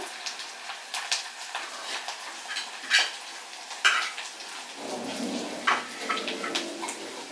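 Chilli powder, turmeric and fenugreek being stirred into a pan for a raw pineapple dish, with a soft scraping and frying hiss. Brief utensil knocks recur irregularly, and a low rumble enters near the end.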